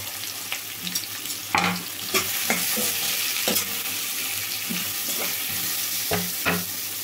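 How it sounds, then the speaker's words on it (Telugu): Onion pieces and green chillies frying in a pan make a continuous sizzle, broken by several sharp stirring scrapes and clinks at close range, with no voices. "మంచి గోల్డెన్ బ్రౌన్ కలర్ అయితే వచ్చేదాకైతే వేపుకోవాలండి."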